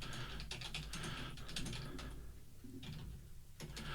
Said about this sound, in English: I'm typing this on the private chat now.